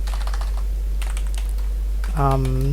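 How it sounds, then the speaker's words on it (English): Fingers tap on a computer keyboard in short clustered bursts of clicks while typing into Notepad, close by over a steady low hum, followed by a brief tonal beep near the end. "I'm just going to open it with Notepad. I'm just going to type this is the test document."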